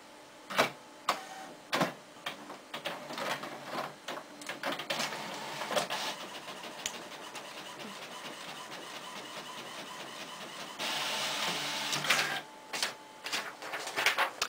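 An inkjet-style home printer runs a canvas print, giving a steady mechanical whir with repeated clicks and feed thumps and a louder stretch of carriage motion near the end, fairly close and with no talking.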